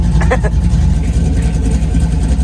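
A 1984 Pontiac Firebird idles after a cold start with a steady low rumble throughout, with some brief higher-pitched sounds near the start.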